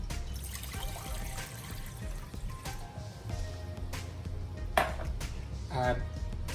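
Water poured into a cooking pot while making mango sticky rice, a steady trickle with light clinks of metal and utensils, heard close up under occasional kitchen noise.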